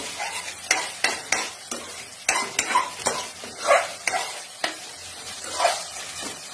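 Rahu fish curry cooking in a pan while it is stirred, with repeated sharp spoon scrapes and knocks in an irregular rhythm over a soft, steady sizzle close by.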